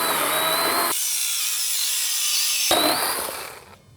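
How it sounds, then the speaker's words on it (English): A saw cutting through wood, a loud, close, continuous rasping and grinding that runs steadily for several seconds before fading out at the end. "So just get the majority of your cut through the saw."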